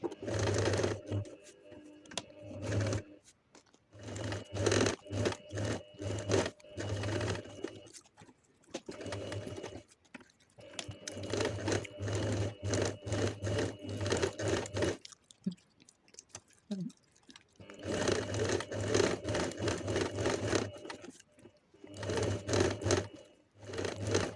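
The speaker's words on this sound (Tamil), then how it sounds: "இப்போ பொறுமையாக அந்த கர்வ்ஸை வந்து தைச்சி எடுத்துக்கோங்க." A sewing machine stitches the curved neckline of a blouse back in several steady whirring runs, separated by short pauses as the fabric is guided around the curve.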